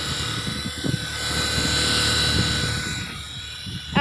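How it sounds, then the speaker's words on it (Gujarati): A helicopter runs close by with a loud, steady whirring drone and beating rotor hum that swells slightly midway, continuous throughout, with no voices. "આપણે હેલિકોપ્ટર હજી એકવાર ચાલુ કરીને દેખાડે યાર"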